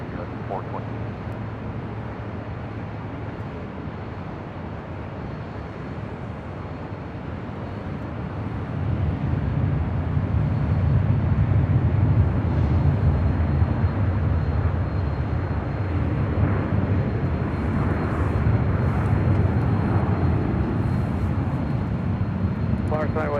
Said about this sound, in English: RNF to Delray, clear for takeoff, runway 24 left